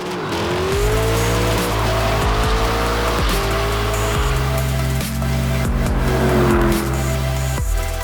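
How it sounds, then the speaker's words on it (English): A 2017 Lexus LC 500's V8 roars continuously at high revs during a burnout, rear tyres squealing and pitch shifting as the coupe accelerates, loud and close. "shredding the rear tyres"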